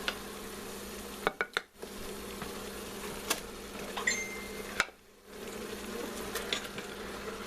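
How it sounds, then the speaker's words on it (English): A beef roast goes back into a pressure cooker with broth and scraped-up browned bits, setting off a steady sizzle and crackle under a few clicks and knocks from the pot. "Now I'm going to add my roast back in."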